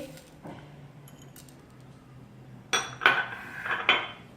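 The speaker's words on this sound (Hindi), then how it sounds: "हमने एक पैन में स्ट्रॉबेरी डालेंगे और इसी में हम ये शुगर ऐड कर देंगे" Strawberries and sugar are tipped into a metal pan in a home kitchen, producing a few bright clinks and clatters from a utensil against the pan after a quiet start.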